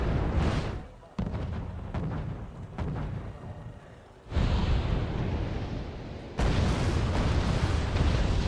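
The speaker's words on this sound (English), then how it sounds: "Let's get some airstrikes started, shall we?" Airstrike explosions in the video game Wargame: Red Dragon, heavy booming blasts that roll on in a dense, loud rumble, with sharp new detonations swelling the roar.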